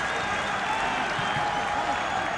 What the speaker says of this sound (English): a big round of applause for Mark Ruden.